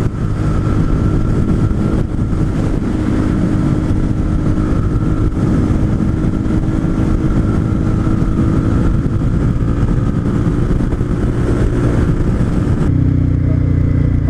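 Loud Suzuki Gladius and Yamaha R3 motorcycle engines roar steadily close by, revving and droning without pause before the sound drops off near the end.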